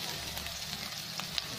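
Onion and garlic sauté in a hot pan with oil, a steady soft sizzle holding throughout at moderate closeness, with a few small pops and crackles rising above the even hiss.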